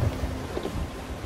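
Thunderstorm at sea in Sea of Thieves, a low continuous rumble of thunder with rain washing over it, steady and fairly loud with no voices.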